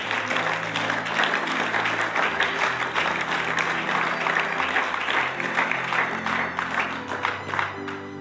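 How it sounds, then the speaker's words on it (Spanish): A church congregation breaks into sustained, dense applause, many hands clapping together steadily and fairly loud, with a low sustained tone beneath. "Denle un aplauso a la gloria de Dios."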